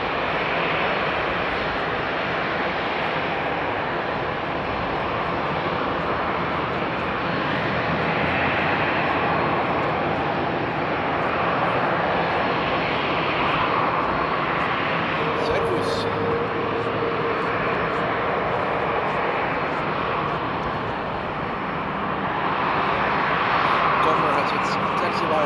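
Jet airliner engines spool up at Frankfurt Airport in winter de-icing conditions, a steady, broad, distant roar that holds for the whole stretch and swells slightly near the end.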